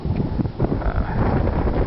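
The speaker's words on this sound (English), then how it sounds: "I knew it was going to be a little windy and chilly today" Wind buffets the microphone outdoors on a windy, chilly day, a steady rough rumbling gust noise for the whole short stretch with no clear voices.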